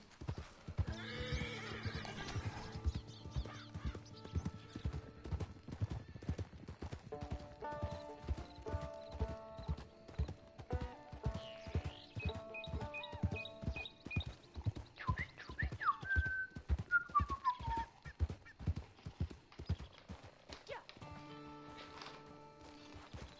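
Steady horse hooves clip-clop in a regular rhythm throughout, with a horse whinnying and bright game-like tones and whistles layered over the steps, in Red Dead Redemption 2 Online.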